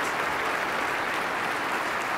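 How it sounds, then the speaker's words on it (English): A large audience in the Stockholm Concert Hall applauds Peter Higgs at the Nobel Prize ceremony, a dense, even wash of clapping that holds steady throughout. "Big applause for Peter Higgs here in the Stockholm Concert Hall"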